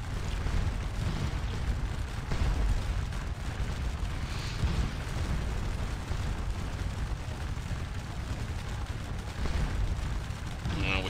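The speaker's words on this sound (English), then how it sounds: "we've got our skirmish unit on the wall now, and they should open fire onto this unit right here" Skirmish units on a fortified wall fire at an enemy unit in a strategy video game, with a dense, continuous barrage of gunfire and booms filling the whole stretch at steady loudness.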